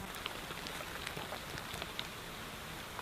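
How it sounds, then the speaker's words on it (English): Steady rain falling, a dense hiss with scattered soft drips and patters on a surface, continuous and fairly close. "it is raining"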